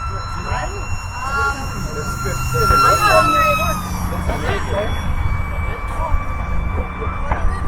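A small UMX MiG-15 RC jet with a 28mm electric ducted fan passes at full throttle, its high whine sweeping in pitch as it goes by, with people talking over it.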